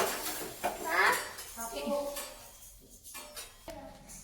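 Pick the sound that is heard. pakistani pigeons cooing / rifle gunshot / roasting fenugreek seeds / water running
roasting fenugreek seeds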